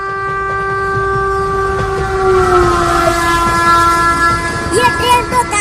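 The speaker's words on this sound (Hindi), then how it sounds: "ट्रेन आ रही है।" A train pulling into a station with a long sustained horn blaring loudly over rumbling wheels and rail noise, the tone sliding slightly as it passes near.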